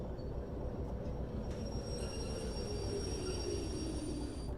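Steady low rumble and rolling rail noise from a locomotive coasting on track in the Derail Valley train game, with faint high whining tones running continuously throughout.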